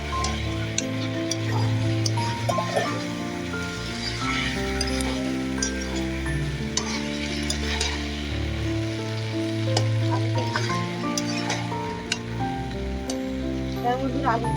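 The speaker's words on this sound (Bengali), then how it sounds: "দেখো বন্ধুরা, আলু আর ফুলকপিটা কষিয়ে নিই।" Potatoes and cauliflower frying in oil in a pan for a tilapia fish curry, a loud, steady, dense sizzle that crackles continuously throughout, close and without pause.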